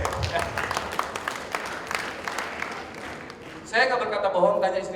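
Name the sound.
applause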